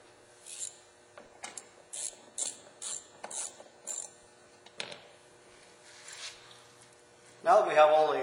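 Small 7mm door trim bolts being removed from a Ford Mustang, heard as close, quick ratchet clicks in a steady run of short bursts, then a few isolated clicks and a louder mechanical whir at the end.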